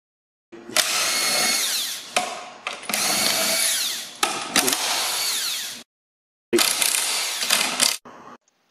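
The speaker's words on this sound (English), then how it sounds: "we're going to unscrew all the nuts from all the wheels" A power tool unscrews nuts from the wheels of a plastic toy race track, running in four loud, close whirring bursts separated by short pauses, with a brief final burst near the end.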